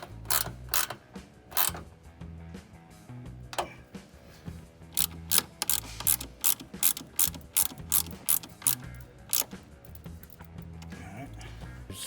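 Hand ratchet snugging a long bolt on a cold air intake install on a 2011+ Dodge Charger, a string of sharp close clicks in quick bursts with brief pauses between strokes.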